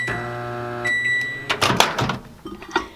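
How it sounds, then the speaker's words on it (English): A microwave oven runs while wilting kale in water, giving a steady electrical hum. Near the end come a louder clunk and rattling clatters, like the door and dish being handled. "I stuck it in the microwave for a couple of seconds, maybe like 30 seconds, just enough to wilt it."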